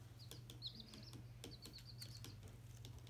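Baby chicks peeping faintly in quick high chirps, several short bursts scattered over a steady low hum, with soft clicks and rustles nearby.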